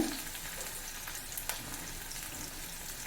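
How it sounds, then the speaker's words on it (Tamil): Mustard seeds splutter in hot oil as a chopped garlic clove and finely cut small onion fry for beans poriyal, a steady, fairly quiet sizzle with one sharper crackle midway. "கடுகு பொரிய ஆரம்பிச்சுட்டு இப்போ இதில் ஒரு பல் பூண்டை கட் பண்ணி சேர்த்துக்கோங்க"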